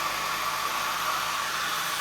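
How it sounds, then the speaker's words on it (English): A hair dryer blowing steadily at low power while peeling masking from a watercolour or acrylic painting, a constant airy whoosh with a faint motor hum, no voices. "then use a hairdryer, put it on low. It'll be a bit noisy for the moment."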